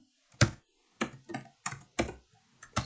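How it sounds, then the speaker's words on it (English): Sharp, separate clicks of keys being struck on a computer keyboard, a handful of taps in an uneven rhythm, close and alone in a quiet room. "sorry about the typing"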